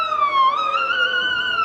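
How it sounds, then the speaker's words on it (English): An Alexander County Rescue Squad vehicle's siren wails loud and steady at an outdoor Christmas parade, its pitch sliding slowly up and down. "As you can hear the siren"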